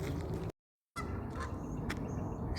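Ducks on the water at an outdoor bird sanctuary give faint, distant honking calls over soft ambient noise, broken by a brief dropout of complete silence.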